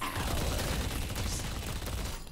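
Wraith's minigun in the video game Deadlock fires as a dense, unbroken stream of rapid shots, loud and steady for the whole stretch with no pauses.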